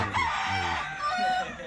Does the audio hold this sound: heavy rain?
no